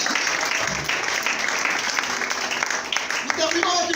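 A church congregation applauds to acclaim the Lord during a sermon, a steady, dense wash of clapping that fills the room throughout, with a few voices calling out underneath.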